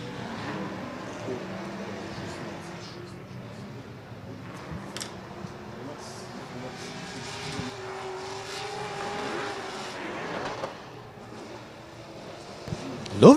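A BMW drift car revs and slides during battles at the Oman International Drift Championship 2023, its engine note surging and dropping beneath constant commentary voices and crowd ambience, with a sharp loud burst at the end.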